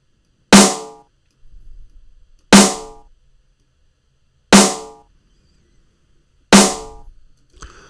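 A metallic drum and bass snare layered with a simpler snappy snare strikes four times at an even pace, each hit crisp and bright with a short ringing decay, clean and alone.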